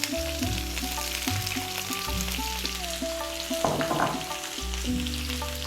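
Onions and fresh curry leaves fry in a pan for a Kerala egg roast, giving a steady sizzle under strong tonal background music, with a brief louder crackle midway.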